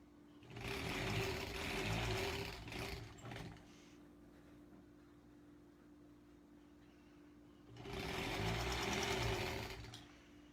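A sewing machine stitches quilt block seams in two loud steady bursts of whirring needle motion, separated by a quiet pause while the seams are matched up.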